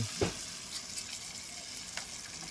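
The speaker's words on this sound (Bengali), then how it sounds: "দিয়ে দেবো শুকনো লঙ্কা তেজপাত পাঁচ ফোড়ন তেলের মধ্যে দিয়ে দেবো হলুদ নুন" Dry red chillies, bay leaf and panch phoron fry in mustard oil, making a steady close sizzle with light stirring scrapes and no talk.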